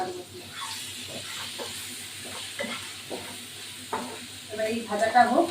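Spices with chilli, turmeric and salt being stirred and fried in a pan, a soft sizzle with scraping strokes that grow louder toward the end, while a voice talks intermittently.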